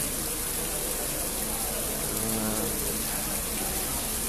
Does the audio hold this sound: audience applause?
no